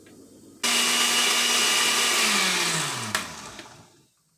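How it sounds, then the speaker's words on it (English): A kitchen blender whirs loudly as it purees lentil soup ingredients with garlic salt and onion powder, starting abruptly, running steadily, then winding down as the motor pitch drops and stops. "Let's start blending."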